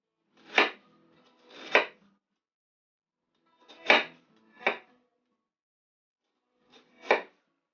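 A knife chops through an onion on a cutting board in five sharp, crisp strokes, some in quick pairs, with short silent gaps between them and no talking.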